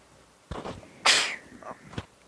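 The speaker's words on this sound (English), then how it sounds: "Pardon me for the sneeze." A single person's sneeze during a painting session, preceded by a short sharp intake of breath and ending with a faint sniff, close and clear in an otherwise quiet room.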